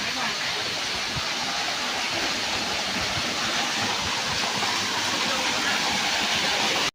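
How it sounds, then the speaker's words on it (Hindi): Steady broadband rush of a waterfall on a hiking trek near Solan in Himachal, continuous and loud throughout, close by, with no clear voices over it. "हमें एक प्यारा सा वाटरफॉल मिला है"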